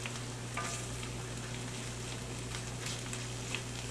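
Chanterelle mushrooms fry in a pan with a steady, close, moderately loud sizzle and soft crackle throughout, without voices.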